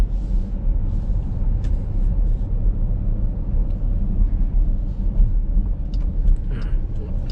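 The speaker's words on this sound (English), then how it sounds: "Beautiful sound from the V8. I really do like that." A 2018 Dodge Durango R/T with a V8 engine drives along with a steady, deep low rumble inside the cabin, mixed with road and tire noise. The engine hum stays constant with no sharp revs.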